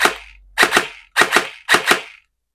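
Bohan SLR V3 airsoft gun with mosfet firing in double-shot mode: three pairs of sharp snapping shots, evenly spaced, close and loud, after a fading earlier report.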